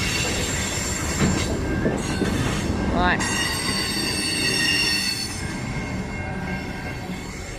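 A CN freight train rolls past with a loud, high metallic wheel screech that swells near the middle amid rumbling rail noise, and someone speaks briefly.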